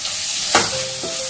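Onion and tomato masala for an okra and lentil curry sautés in a pan, a loud, close, steady sizzle broken by two quick scraping stirs.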